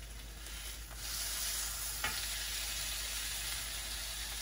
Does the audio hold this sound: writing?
no